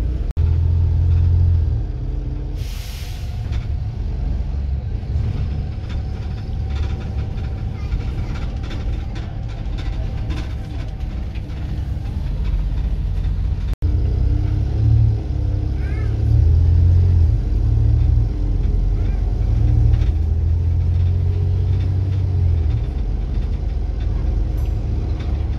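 An ex-Discover Wright Eclipse bus runs on its route to Hillsborough, a loud steady engine drone and rumble that rises slightly in the second half, with road and body rattles throughout.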